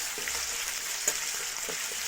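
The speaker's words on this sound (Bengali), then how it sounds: "একটু ভাজা ভাজা হোক 2 মিনিট" Potatoes frying with chopped onions in hot oil in a wok for a mixed vegetable curry, an even close sizzle with a few light stirring clicks.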